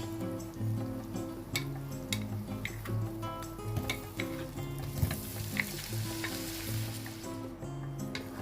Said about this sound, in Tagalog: mag-melt tayo ng butter para lutuin natin ng ating shrimp